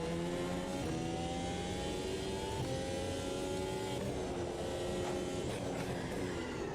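An F1 2022 race car in the Automobilista 2 video game, its high-pitched engine whining loud and close as it revs through gears with rising tones and quick downshifts, no voices.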